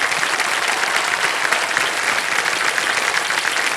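Steady, dense applause from a large TV quiz show studio audience, loud and continuous throughout without a break.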